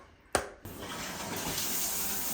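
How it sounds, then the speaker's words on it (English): Water bursts from a pipe at high pressure once a clogged filter screen is cleared, with a sharp click and brief splash, then a loud, steady, close gush of rushing water. "Look at that water pressure."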